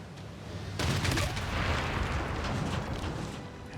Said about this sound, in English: the battleship should also be able to do some damage to these guys